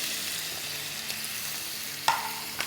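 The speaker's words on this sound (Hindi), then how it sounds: "और कुछ कड़ी पत्ते डाल देंगे, जैसे 5-6 कड़ी पत्ते डाल देंगे।" Curry leaves sizzle in hot oil for a dal tadka with chopped onion, giving a steady quiet frying hiss and a sharp spatter partway through.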